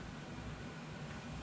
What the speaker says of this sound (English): the loud noise you hear in the background is actually my air conditioner running